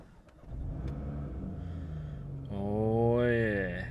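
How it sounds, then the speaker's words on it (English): Honda DC2 engine cold-starts: a low idle-like rumble, then the engine catches and revs up sharply near the end with a rising tone, close and fairly loud. "Cold start for the boys."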